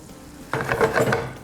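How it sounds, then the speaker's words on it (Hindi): Garlic being stirred in a hot pan with a spatula, a soft sudden sizzle and scraping that starts after a brief quiet and continues in gentle bursts, close by. "स्पैचुला, इसको हल्का सा मिक्स कर लेते हैं।"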